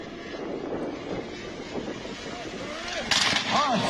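Engine of a Predator helicopter drone at an air show suffering a catastrophic failure, a harsh droning roar with rising, sputtering pitch sweeps and a sudden louder burst near the end, heard amid crowd noise and chatter.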